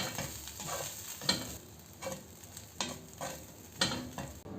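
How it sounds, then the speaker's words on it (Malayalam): Poha with fried peanuts is stirred in a pan, the spoon scraping in a few distinct, spaced strokes over a faint sizzle, close and fairly quiet, with no talking. "ഇനി എല്ലാം കൂടി നല്ലവണ്ണം ഒന്ന് മിക്സ് ചെയ്തെടുക്കാം"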